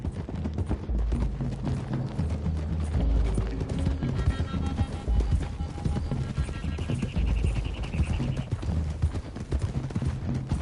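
Several horses galloping in Red Dead Redemption II: a loud, continuous rush of overlapping hoofbeats with occasional snorts and a whinny, accompanied by tonal music and faint voices in the background.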